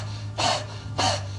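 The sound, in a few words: rapid panting breathing exercise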